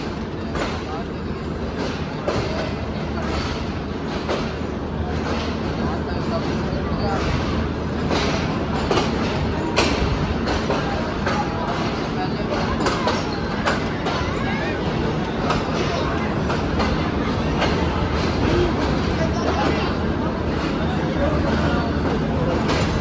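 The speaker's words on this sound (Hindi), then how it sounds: "इलामा इकबाल एक्सप्रेस 10 डाउन की लाहौर रेलवे स्टेशन का प्लेटफॉर्म नंबर 4" The Allama Iqbal Express 10 Down stands at platform 4 of Lahore railway station, a continuous loud rumble and clatter of rail cars mixed with crowd babble, as someone talks throughout.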